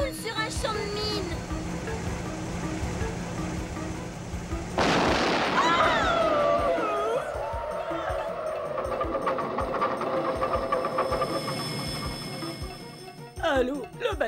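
A driving car in a cartoon sets off landmines as it rolls across a minefield, with one loud booming burst followed by scattered rumbling blasts and pops over a busy music and effects bed.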